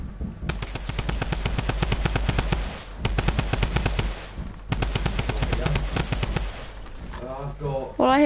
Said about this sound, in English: All I hear is drum gun shots.